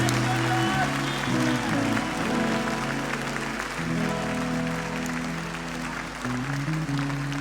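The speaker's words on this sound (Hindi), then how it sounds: "एक बार तारीफ कर दो तालियों के साथ।" A church congregation claps together at a Thursday Christian testimony meeting, steady broadband applause blended with sustained music and voices throughout.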